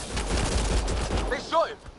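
Rapid gunfire in a Mass Effect Andromeda firefight, a dense burst of shots in the first second and a half, followed by a short shouted voice.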